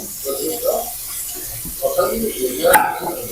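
Tap water runs steadily while celery is washed in a kitchen, a close hissing flow with brief splashes and handling noises, and a voice talks over it.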